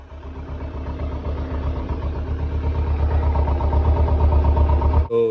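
A Kawasaki Ninja 300 motorcycle engine idles steadily at close range after a battery replacement, a low, even rumble that cuts off sharply near the end.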